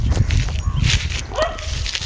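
A dog gives short yips and whimpering barks close by, loud against a busy outdoor background near a railway station.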